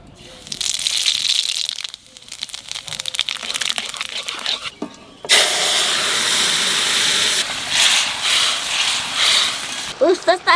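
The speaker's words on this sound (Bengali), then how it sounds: "তেলের উপর দিয়ে দেবো জিরে আর রাঁধুনি।" Cumin and radhuni seeds hitting hot oil, bursting into a loud hissing sizzle that swells and fades in waves with crackles, close up in a home kitchen, with a voice heard briefly.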